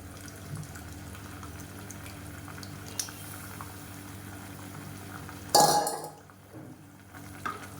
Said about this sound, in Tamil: இது வந்து கொஞ்சம் கொதிக்க ஆரம்பிச்சிடும்